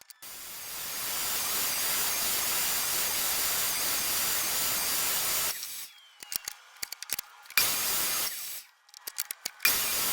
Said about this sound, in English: Here I'm cutting dados for the T-tracks to sit in.